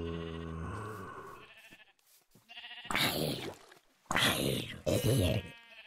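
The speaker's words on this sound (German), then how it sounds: "Da vorne sind Schafe." Minecraft sheep bleat in close, wavering calls at the start, followed by a few more bursts of bleating between stretches of someone talking in German.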